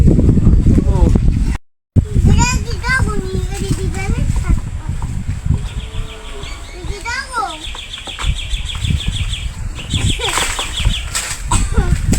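Chickens cluck and a bird flaps its wings at close range in a rural yard, while people talk over the birds for most of the stretch.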